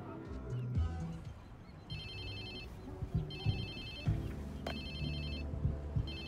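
A mobile phone rings in the video game Watch Dogs 2, a repeating electronic ringtone pattern in bursts over a low game soundscape with thumps and rumbles, no voices.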